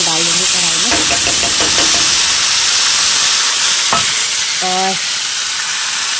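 Rice and lightly browned onions frying in a kadhai, sizzling steadily as they are stirred, with scraping strokes in short bursts and a brief voice in the background.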